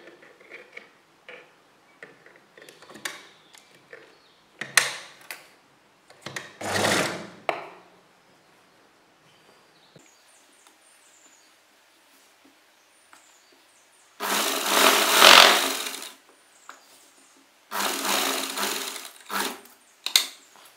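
A sewing machine stitches a strip onto a neckline with potli buttons in short separate bursts: faint, stop-start runs early on, then two louder, longer whirring passes near the end, with quiet pauses between.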